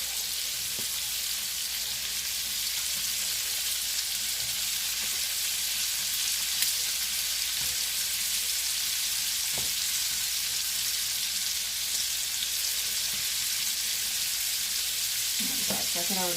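Shrimp and garlic fry together in a crowded pan, a continuous loud hiss of sizzling oil that holds steady for a long stretch, with a few faint clinks and stirring noises.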